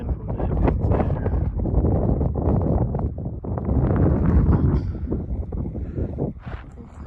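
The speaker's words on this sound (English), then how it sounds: "It was very windy and very cold, but we persevered." Strong, cold wind buffets the microphone in continuous gusty roars on open off-grid land in northern Arizona.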